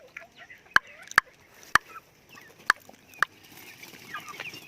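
Shamo roosters and other backyard chickens of Duhan line, partridge and native cross breeds, let loose in a yard, with five sharp, short clucks or calls spaced unevenly over a soft background of distant bird chatter.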